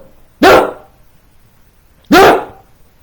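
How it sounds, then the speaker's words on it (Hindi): A dog barks twice, two sharp, loud, close barks spaced well apart with quiet between them and no talking. "मगर कुत्ता और पास आकर के भौंकने लगा"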